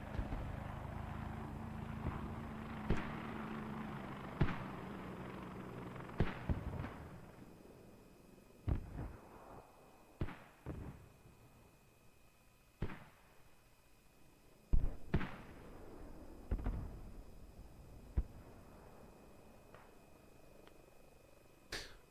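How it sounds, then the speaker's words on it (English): Mortar shells land in a multiplayer war game round, each impact a sharp, mid-distance thud or crack that repeats at irregular intervals over a low, steady engine-like rumble. "Mortars are still coming in."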